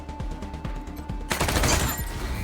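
Wasteland 3 combat gunfire: a ticking series of sharp, evenly spaced shots, then a denser, louder burst of overlapping gunfire and impacts filling the second half.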